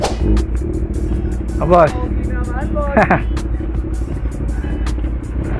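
Four-cylinder car with an Austin Racing exhaust: a deep, steady exhaust rumble close by, running under people talking, with brief swells in loudness.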